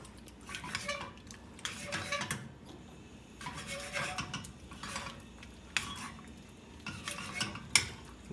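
Cheese sauce for cacio e pepe is gently stirred in a pan, giving soft, close scraping and rubbing strokes with occasional light clinks of utensil on metal, fairly quiet and without talk.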